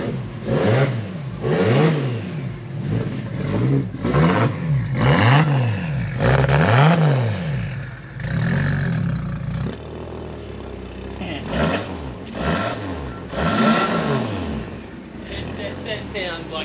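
A Toyota JZX100 with a straight-pipe exhaust revs again and again up close, each loud blip rising and falling with turbo whoosh and clatter, and voices talk beneath it.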